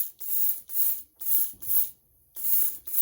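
Bursts of two-part Duracoat spray paint hiss onto a PS5 controller, four or five close, steady sprays of about half a second each, separated by short silent pauses.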